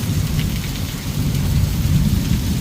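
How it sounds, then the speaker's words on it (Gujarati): Heavy downpour in Kalavad with thunder rumbling through it, a dense, steady roar of rain close by and deep rolling booms underneath, loud and continuous with no voices. "કેવો ગાજે છે વરસાદ કેવો ગાજે છે"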